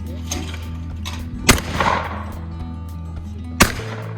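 Two loud, sharp shotgun blasts fired at clay targets on a ranch, spaced about two seconds apart over steady outdoor background noise.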